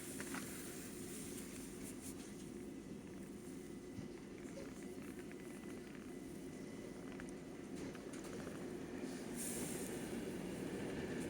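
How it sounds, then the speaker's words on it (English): A non-refurbished nine-carriage Avanti West Coast Class 390 pulls into Euston, heard as a steady, continuous rail rumble with rolling wheel noise and faint squeal, somewhat distant beneath the running sound of a London Overground train. "A non-refurbished Avanti West Coast Class 390 arriving into Euston."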